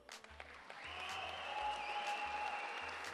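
Applause from the audience at a local sports gala in a hall, a moderate, steady wash of clapping that builds after the first second and carries on, with a faint tone and low hum beneath it.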